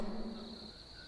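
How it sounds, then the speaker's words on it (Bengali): Crickets chirp at night beside a quiet hillside hotel and empty road: a faint, steady, unbroken trill heard alone. "ঝিঝি পোকার ডাক শোনা যাচ্ছে"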